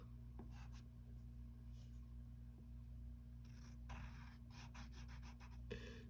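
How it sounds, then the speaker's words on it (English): A pencil or marker sketches a stripe on paper in short, soft scratchy strokes, several close together, quiet and near, over a steady low background hum. "Then you're going to draw a stripe."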